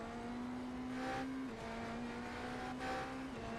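Race car engine in an IMSA-series racing video game at the Belle Isle circuit, a steady close buzzing drone whose pitch steps abruptly on downshifts into a turn.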